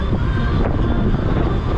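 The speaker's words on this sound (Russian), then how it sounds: "Капец ветер." Strong wind blows on a cycling trip through Crimea in April. It roars and buffets steadily and loudly against the microphone for the whole stretch, with no talk.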